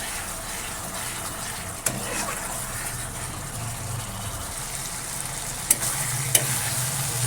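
Cumin-ginger spice paste fries with pointed gourd and paneer in a pan, giving a low steady sizzle with stirring scrapes and a few sharp clacks of the spoon on the pan rim.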